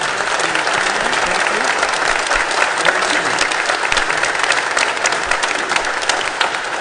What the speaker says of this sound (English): Can we give a clap offering to God?